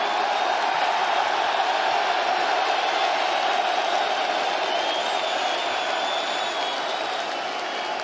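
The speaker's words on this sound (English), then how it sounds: "Listen to the crowd pay appreciations to their champion." Large UFC 286 arena crowd roaring and cheering for the champion after a fight, a continuous loud wash of voices and applause with whistles rising above it.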